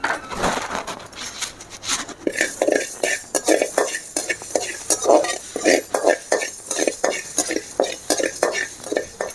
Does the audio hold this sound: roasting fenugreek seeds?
yes